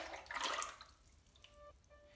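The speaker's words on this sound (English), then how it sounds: "pour this glaze right inside. And what I'm going to try to do is swish it around a bit and I'll pour it back right in." Ceramic glaze poured inside a mug and swished around, a brief soft liquid splash and slosh followed by faint trickling, quiet and close, with no talking.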